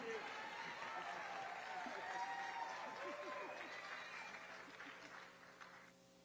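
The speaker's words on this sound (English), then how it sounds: "Let's give Regina Bell and Christopher Walker another round of applause" An audience applauds performers Regina Bell and Christopher Walker at a humanitarian awards ceremony in Houston. The clapping is steady and mixed with crowd noise and cheering, then thins out toward the end.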